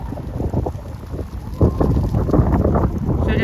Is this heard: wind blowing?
yes